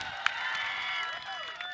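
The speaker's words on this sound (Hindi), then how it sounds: "जोरदार तालियां" An audience applauds at an award ceremony for cow-shelter protection in Ladwa, a dense, steady clapping that sounds somewhat distant and fairly faint.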